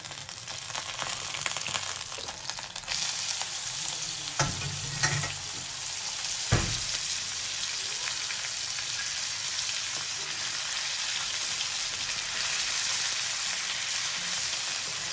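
Hand-minced beef sizzles and fries steadily in a pan, with a few sharp clatters of stirring near the start, continuous and close.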